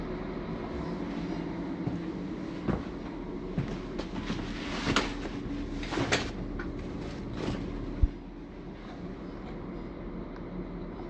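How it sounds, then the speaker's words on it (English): A passenger train pulls into a German railway station, a steady rumbling roll with scattered clanks and squeals of wheels and brakes, closing with a sharp thud as it settles to a stop. "So my train arrived on time."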